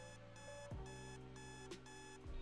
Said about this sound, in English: Why is there an alarm clock going off?